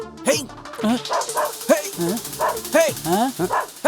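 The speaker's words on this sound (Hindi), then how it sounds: "कुत्ते कहाँ भौंक रहे हैं?" Several dogs bark, yip and whine in a quick run of short, overlapping calls that rise and fall. They sound fairly close and loud, in a scene from a South Indian action film dubbed into Hindi.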